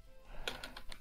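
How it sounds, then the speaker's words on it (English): A handful of quick, crisp keystrokes clack on a mechanical keyboard, close and fairly quiet, landing in an uneven burst of about five taps. "Mechanical keyboard here."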